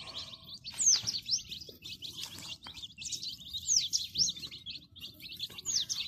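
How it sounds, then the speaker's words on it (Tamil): Many one-day-old country chicks (nattu koli) peep continuously in a close, lively chorus of high, repeated chirps with a steady low background hum, no talking. "இதுதான் வந்து ஒரே நாள் குஞ்சு"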